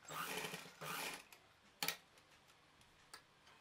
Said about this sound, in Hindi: इसको हम 1 इंच सिलाई करेंगे, फिर इसको डबल सिलाई कर देंगे